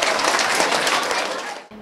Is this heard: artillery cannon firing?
no